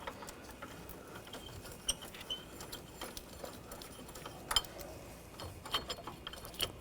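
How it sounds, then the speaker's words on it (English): A 10mm socket ratchet loosens the battery hold-down nuts on a 2014-2020 Nissan Rogue, giving faint, irregular clicking ticks against a low background hiss. "Using a 10mm socket, loosen up the nuts for the hold down."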